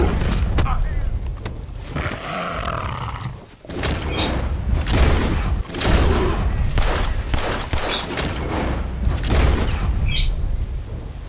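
Rifle gunshots ring out in Red Dead Redemption 2 while hunting a panther, several loud booming reports spread across the moment amid game sounds and a growling big cat, with talk over them.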